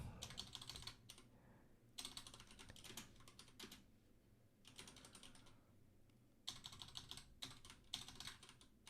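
Fingers clatter on a computer keyboard in quick, busy bursts separated by short pauses, the keystrokes crisp and close with no voices over them.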